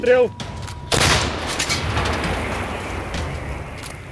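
A brief voice, then one heavy Msta-B howitzer blast booms out and trails off into a long rumbling echo.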